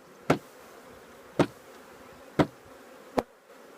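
Honeybees knocked off a hive frame from a queen-right colony: four sharp thumps spaced about a second apart, each followed by a brief rising hum of disturbed bees over a faint background drone.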